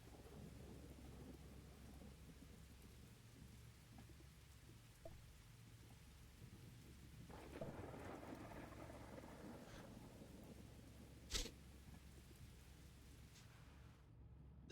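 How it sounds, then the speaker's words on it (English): Simulated rain and thunder in the Derail Valley train game: a faint, steady hiss of rainfall with a low rolling thunder rumble building midway and a brief sharp crack near the end. "No, it's rainy."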